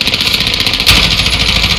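Motorcycle engine in an online shooter video game, a steady mid-pitched idling drone held close and loud throughout, with a brief louder rev surge partway through and no talking over it.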